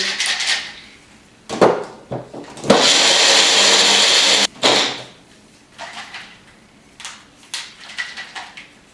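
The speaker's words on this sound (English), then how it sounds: "let's put it into the blender" Clattering kitchen handling, then a blender whirs loudly for about two seconds blending a meatless, dairy-free cheese-like sauce before stopping, followed by more scattered knocks and clinks.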